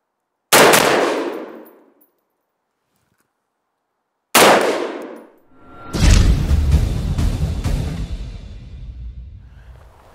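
A CETME LC, a short Spanish service rifle, fires two sharp, loud single shots with ringing decays and long quiet gaps between them, then a longer rattling burst follows.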